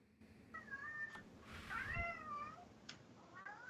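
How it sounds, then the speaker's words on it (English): A whiny cat cries in someone's lap indoors, giving several drawn-out, faint meows spaced across a few seconds against quiet background noise. "there's a crying cat in your lap"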